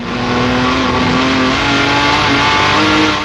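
A Jaguar D-type race car accelerating hard on a track, its engine a loud, sustained, close roar with rising and shifting pitch under throttle and no speech.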